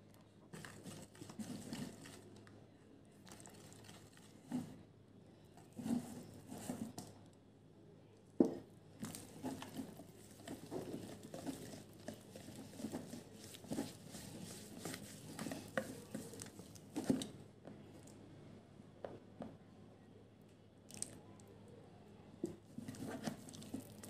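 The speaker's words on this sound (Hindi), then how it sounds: "अब हम इसे ड्राई इंग्रेडिएंट के साथ में मिक्स कर देते हैं, लेकिन हम थोड़ा थोड़ा करके मिक्स करेंगे" Creamy cake batter being folded a little at a time into dry ingredients, soft irregular squishing and patting strokes with occasional light clinks of a utensil against the bowl, close and quiet, no talk.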